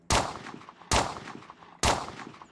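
Three loud, sharp gunshots from a weapon in the game Survive the Nights, fired one at a time at even intervals of just under a second, each with a short decaying tail.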